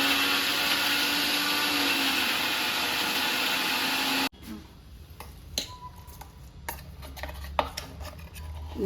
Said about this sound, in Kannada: ಡ್ರೈ ಆಗಿ ಗ್ರೈಂಡ್ ಮಾಡಬೇಕು.